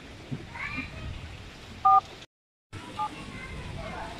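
Two brief telephone keypad dialing tones sound amid a noisy, watery background, one louder beep near the middle and a fainter one shortly after, separated by a moment of silence.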